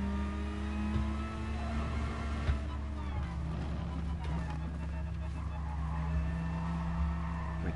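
Racing car in a video game sliding through mid-engine oversteer, steady engine drone with tire skid squeal and harmonic whine, a voice talking over it throughout.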